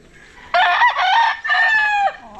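A gamefowl broodcock crows once up close, a loud, clear cock-a-doodle-doo with a brief dip in the middle before the long final note.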